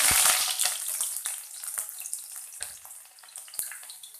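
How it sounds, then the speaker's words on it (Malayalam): Garlic, ginger, onion and capsicum hit hot oil in a pan with a loud sizzling burst that settles into a softer crackling hiss, punctuated by a few sharp spatula clicks. "ഇഞ്ചിയും സവാളയും ക്യാപ്സിക്കം എല്ലാം അതിനകത്തിട്ടൊന്ന് വഴറ്റാൻ പോവാണ്"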